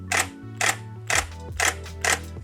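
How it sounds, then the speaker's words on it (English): Canon 5D Mark III shutter in silent mode fires five times at an even half-second rhythm, each a sharp, fairly loud mechanical clack alone over a faint background hum. "Here is silent mode in 5D Mark III."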